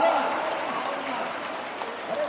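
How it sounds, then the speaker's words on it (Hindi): Audience at a political rally in Indore breaks into sustained applause, a dense even patter of many hands clapping with speech faintly mixed in. "जोरदार ताली बजा के बताओ।"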